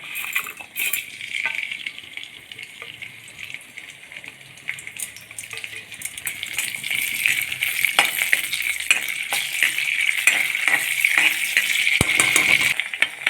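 Ginger, shallots, garlic and dal hit hot coconut oil for a Kerala-style sambar, raising a bright, steady sizzle that swells louder over time, dotted with light clinks of a spoon against the pan.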